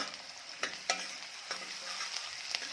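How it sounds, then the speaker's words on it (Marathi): Chopped onion with a pinch of salt sautés in a pan, a steady close sizzle broken by a few sharp scrapes of a spatula stirring through it. "कांद्यामध्ये थोडंसं मीठ घालावं ज्यामुळे कांदा पटकन भाजला जातो"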